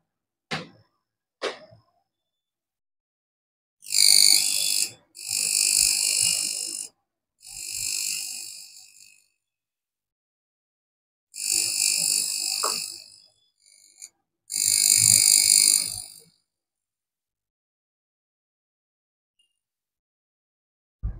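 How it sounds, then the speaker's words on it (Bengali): A high frequency hair treatment machine runs on a scalp during an oil hair treatment, giving several separate sharp electric buzzing bursts of a second or two each, close and alone amid silence, with faint clicks between them. "হাই ফ্রিকোয়েন্সি মেশিনটা আমি চালিয়ে তোমাদের দেখাচ্ছি"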